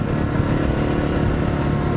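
Motorcycle engine held at steady revs after a carburetor main jet change, a loud, close, continuous drone with no talking over it.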